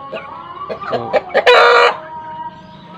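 Free-range village chickens cluck in short bursts close by, with one louder, drawn-out rooster-like call in the middle.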